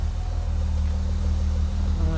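A BMW 5 Series E39 engine runs with a steady low rumble at close range, its note rising slightly near the end.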